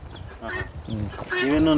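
Native country chickens on a farm in Bhimavaram give short, close clucks and honking calls, overlapping with a voice talking nearby.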